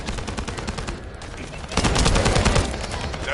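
Rapid bursts of gunfire in the video game The First Descendant, a flurry of shots that dips briefly then returns louder and denser.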